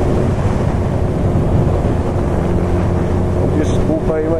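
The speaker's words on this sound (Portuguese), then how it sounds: "um pouquinho, ó, acima do normal o barulho do vento" Loud, continuous wind buffets the microphone through an open window on a hot day, a dense roaring rush over a low engine-like rumble that never lets up.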